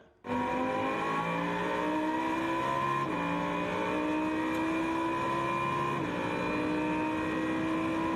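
A Lamborghini Super Trofeo race car screams through a final turn at Vallelunga, its engine note rising and dropping with each gear change, loud and close and heard alone.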